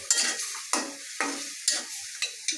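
Goat trotters sizzling in oil in a pan, stirred with a spatula in repeated scraping strokes about every half second over a steady frying hiss, close and fairly loud.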